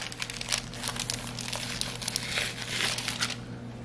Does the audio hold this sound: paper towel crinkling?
yes